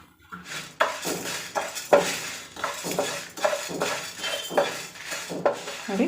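Metal spoon stirring and scraping roasted horse gram with Byadgi chillies and curry leaves in a hot pan, a run of regular clinking strokes about once a second, close and clear with no talking.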